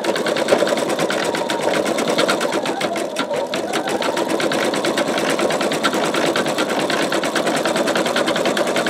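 An embroidery sewing machine stitches the legs of a bumblebee quilt block, its needle hammering in a fast, steady, loud drone that continues unbroken throughout.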